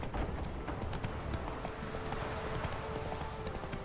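Horse hooves clip-clop in a steady walking rhythm in The Witcher 3 video game, close and distinct over a faint ambient background, with no speech.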